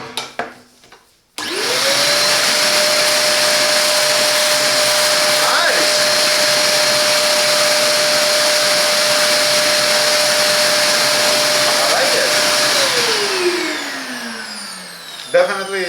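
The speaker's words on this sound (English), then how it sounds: "I will try the blower." A Parkside PAS 1200 F5 ash vacuum starts up running in blower mode, a loud steady whine and rushing air that holds for about eleven seconds before winding down.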